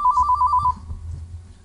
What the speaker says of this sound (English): I think John has a phone call.